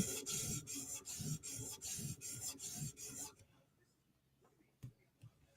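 A Chris Reeve Inkosi tanto knife bevel is drawn across a sharpening stone in steady rasping strokes for about three seconds, then the scraping stops and only faint handling clicks remain.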